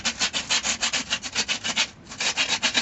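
A rasp scrapes over a Diaboloceratops skull replica in quick, even back-and-forth strokes, about six per second. The strokes are close and loud and pause briefly midway before resuming.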